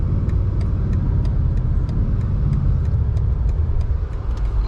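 A 2025 BMW M8 Competition accelerates on the road, its engine a deep, steady rumble heard from inside the cabin, with faint rhythmic ticking above the drone and no talking.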